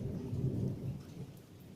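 Low thunder rolls on continuously during a dark electrical rainstorm, a deep distant rumble blended with steady rain, with no voices.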